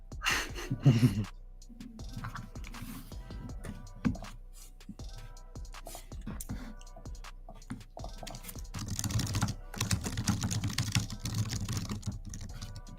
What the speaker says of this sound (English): I forgot to mute myself before I started typing.